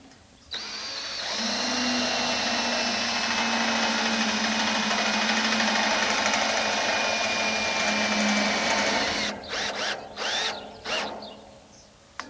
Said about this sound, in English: go ahead and start by screwing the bracket to the post